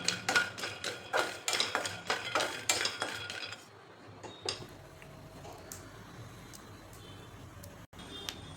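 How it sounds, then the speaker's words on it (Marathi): Peanuts roast in a pan while being stirred, giving quick, rhythmic metallic scrapes and clinks up close. These settle into quieter, sparser ticks and rattles toward the end. "ह्याच पॅनमध्ये आपल्याला आता शेंगदाणे भाजायचे"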